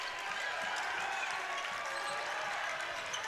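A high school basketball crowd in a gym, Marion Giants against Warsaw Tigers, responds to a play with sustained applause and cheering, a broad, moderately distant roar with scattered claps and a faint bounce underneath.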